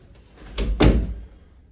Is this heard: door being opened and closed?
yes